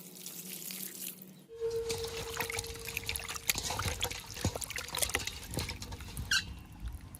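Fish pieces being rinsed clean under running water at a sink, with trickling, splashing water and occasional squeaky handling sounds, close and steady after a brief quiet start, no talking.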